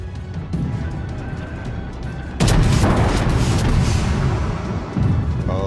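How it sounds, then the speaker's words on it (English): Warship artillery in the naval game World of Warships, a heavy booming salvo that bursts in loudly and rolls on as a dense rumbling roar, with smaller shot sounds before and a further thump near the end. "as well as the Rasputin that starts firing at us"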